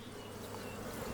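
A dense, continuous buzzing of many honeybee drones returning to the hive close by in Slovenia, steady and droning with no voices.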